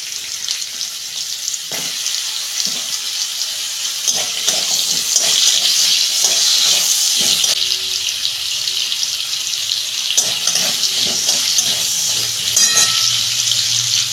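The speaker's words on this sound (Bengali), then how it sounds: "কুমড়োটা ভেজে নিচ্ছি।" Pumpkin pieces frying in oil in a kadai give a loud, continuous, close sizzle and crackle, with occasional stirring scrapes and clinks throughout.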